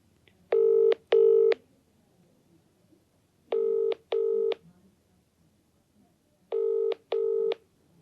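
Telephone line tones while placing a live call: three evenly spaced pairs of clear electronic beeps, each pair followed by silence, repeating every few seconds.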